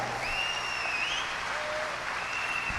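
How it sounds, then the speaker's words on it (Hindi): Steady applause from an audience fills the space, dense and even throughout, with a few faint whistles or cheers over the clapping. "जोरदार तालियों से स्वागत कीजिए मेरी ब्यूटीफुल वाइफ सीता।"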